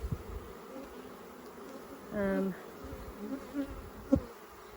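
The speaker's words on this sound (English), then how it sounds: "So we've got pretty normal hive action going on here." Bees hum in an open hive with a low, fairly quiet, continuous buzz, with a few brief louder buzzes of single insects passing near.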